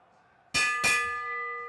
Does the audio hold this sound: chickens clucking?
no